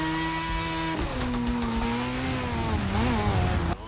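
Car engine droning at steady high revs with tires sliding in the racing game The Crew Motorfest; a loud, sustained tone that dips and rises as the car drifts, then cuts off.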